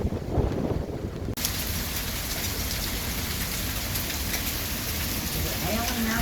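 Heavy rain pours steadily and loudly during a tornado warning in Dayton, Ohio, a dense broadband hiss with a brief quieter moment near the start before the downpour fills everything.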